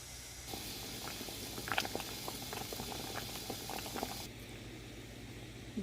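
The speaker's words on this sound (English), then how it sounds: "Bring your bell peppers to a boil." Water with bell peppers in a pot boils at a gentle, even roll, with steady soft bubbling and small pops throughout, heard close and fairly quiet.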